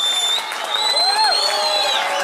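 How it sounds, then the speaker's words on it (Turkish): At an evening ceremony for the lighting of a historic Urartian-era castle, an audience claps in a dense, steady burst of applause that lasts the whole moment. "bu alkışlar kaymakamımıza"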